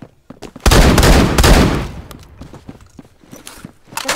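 Gunfire in the Roblox shooter Phantom Forces: a loud burst of rapid shots that blurs into a dense roar, followed by scattered quieter pops and clicks.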